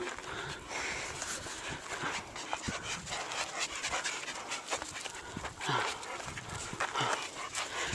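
A pet dog pants quickly and steadily close by, with rapid rhythmic breaths and some rustling, during an outing with the family's dogs.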